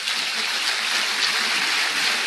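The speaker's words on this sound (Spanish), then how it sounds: "Dale un aplauso al Señor." Dense, steady applause from a church congregation fills the space evenly and loudly, with no voices breaking through.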